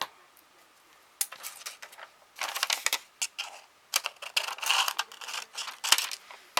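Material being cut off for a homemade tea bag, heard as quiet, irregular bursts of close snipping and crisp rustling clicks, separated by short near-silent pauses.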